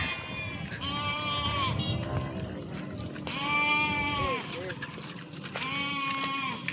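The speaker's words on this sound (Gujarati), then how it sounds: "આપણે આ પાલી પર બકરા આવી જઈ તમે જોઈ લો" Goats bleating on a path, three drawn-out wavering calls from a herd rising over steady outdoor background noise, fairly close and loud.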